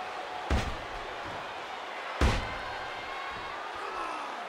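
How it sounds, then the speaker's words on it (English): Two sharp, loud impacts of a wrestling kick landing on an opponent during a pro wrestling match, spaced about two seconds apart over a steady roar of the arena crowd. "The quick kick. You hear how his leg connected?"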